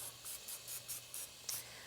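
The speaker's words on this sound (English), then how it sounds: "I'm going to spray over some oil here, some olive oil." A spray bottle of olive oil mists food before it goes into the oven for an aromatic Cambodian curry. About seven short, evenly spaced spritzes of soft hiss sound up close over a quiet background.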